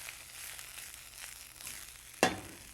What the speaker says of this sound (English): Stir fry. Okay, stir fry all of these.